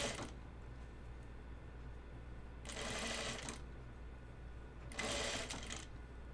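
Sewing machine stitching pleats into heavy plaid fabric, three quiet bursts of rapid mechanical stitching separated by pauses, with a low background hum in between.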